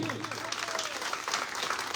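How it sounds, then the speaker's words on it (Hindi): An audience claps enthusiastically at a Ganesh Puja night devotional program in Tetri, Naugachia, a continuous dense patter of applause with voices mixed in. "एक बार जोरदार ताली होनी चाहिए।"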